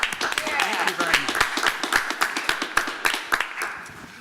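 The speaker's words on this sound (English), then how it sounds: "give our audience a big round of applause, because they're here" A panel audience at a university event on human-machine interfaces claps loudly and steadily, a dense burst of hand claps from a crowd of listeners that tapers off at the end.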